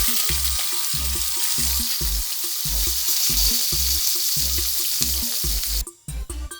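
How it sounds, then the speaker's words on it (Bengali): Hilsa fish pieces fry in white oil in a wok with a loud, close, continuous sizzle and crackle, under a rhythmic music bed, ending with a brief clatter near the close. "মাছগুলোকে ভেজে নেব।"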